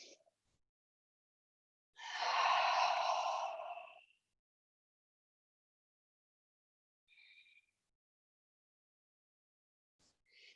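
A single long, breathy exhale during a mat yoga class with chair modifications, close and clear, followed by a couple of faint, brief breath sounds in otherwise quiet surroundings.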